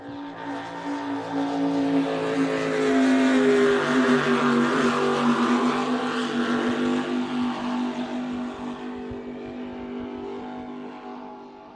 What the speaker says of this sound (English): big block motors doing their thing